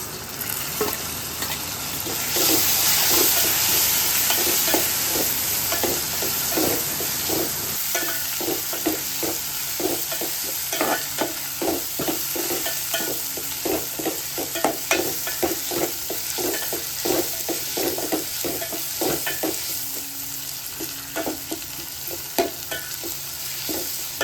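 Pounded garlic and tomatoes sauté in a pan for a village-style kola fish curry, giving a steady close sizzle broken by many rhythmic scraping stirs throughout, with no talking.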